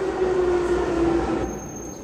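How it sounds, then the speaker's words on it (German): A subway train rumbles through an underground station in Assassin's Creed 3, set in Brazil, with a sustained tonal whine over low rumble that shifts and drops away near the end; no one speaks. "In Brasilien. In der U-Bahn."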